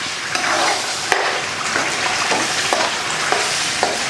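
Ground tomato paste hits hot oil in a pan for Telugu tomato pickle, a steady close sizzle with occasional sharp scrapes and clicks of a spoon stirring.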